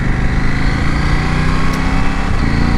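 2020 KTM 790 Adventure R motorcycle engine running close and loud, a steady buzzing drone with little variation in pitch across the few seconds.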